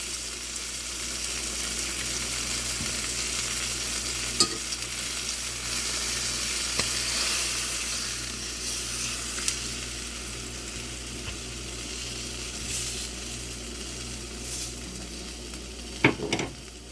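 A chicken breast sizzles steadily in a cast iron pan after being flipped, a continuous close crackling hiss with a few faint clicks of tongs and no talk.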